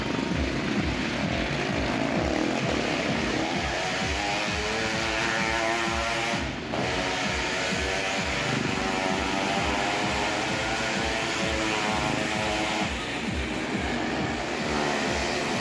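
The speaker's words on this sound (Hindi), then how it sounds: "अभी जो चार बाइक जो अभी एक साथ मौत के कुएं में चढ़ रहे हैं" Four motorcycles ride together around the wall of a well-of-death show at a fair, a continuous loud droning engine roar that holds steady throughout with no talk.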